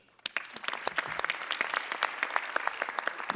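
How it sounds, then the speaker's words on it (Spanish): Scattered, distinct hand claps from a conference audience at a plenary session, starting sparse and quickly building into a brisk, uneven round of applause close by. "Un gran aplauso"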